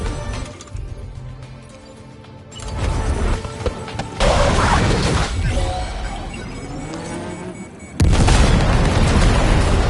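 Loud booming gunfire and explosions from a video game battle, with a sustained heavy rumble and sharp blasts near 4 and 8 seconds, with faint voices underneath.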